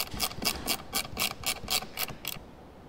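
Screws on a Ferrari F430 side mirror are tightened with a small hand tool, giving a quick, regular series of about ten faint ratcheting clicks, close up and alone.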